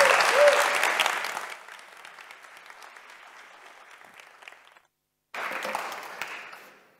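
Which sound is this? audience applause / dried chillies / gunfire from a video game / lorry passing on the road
audience applause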